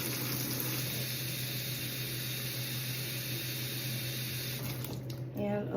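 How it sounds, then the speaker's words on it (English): Water is poured steadily into a homemade vinegar and essential oil cleaning spray mix. It makes a continuous, fairly loud rushing hiss that cuts off near the end. "So now I'm going to add more water."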